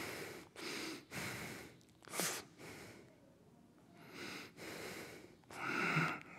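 Slow, audible breaths during a yoga pose in a class, several close inhales and exhales with airy, slightly wheezy rushes and brief pauses between.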